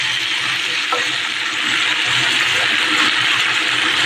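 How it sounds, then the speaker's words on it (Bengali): Water poured into a pan of frying fish and spices for a bony fish curry sets off a loud, steady hiss of sizzling that holds evenly throughout, with faint clinks underneath. "এই দেখো জল দিয়ে দিলাম।"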